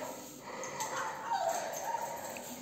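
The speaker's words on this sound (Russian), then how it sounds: "Тут собак разбудили рядом." Dogs nearby in an apartment building, just woken, whimper and yip faintly, with a thin whine rising in the middle, heard at a distance behind quiet room noise.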